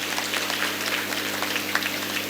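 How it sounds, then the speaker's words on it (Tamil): An audience at a college undergraduate orientation applauds the parents, a dense steady patter of clapping from many hands heard at moderate distance over a low hum. "அந்த பெற்றோர்களுக்கு நல்லா கைதட்டுங்க பார்ப்போம்."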